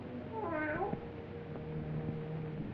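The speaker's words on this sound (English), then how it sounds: "how often have I told you to keep that cat from desecrating my graves?" Cat in a 1942 crime thriller giving a single clear meow, moderately close against a soft hiss, with no talking.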